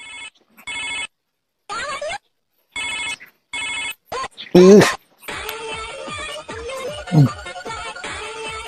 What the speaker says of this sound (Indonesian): HP ngageter di sana nelpon